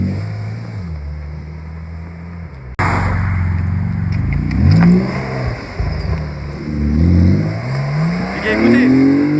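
Porsche 991 GT2 RS engine at a car-spotting street scene, a loud revving roar that rises and falls in several swells after a low idle, with voices talking over it.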